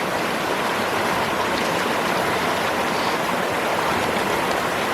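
A hiker wades across a river in the Cranberry Wilderness of Monongahela National Forest, where steady, loud rushing stream water drowns out everything else with an even, unbroken hiss.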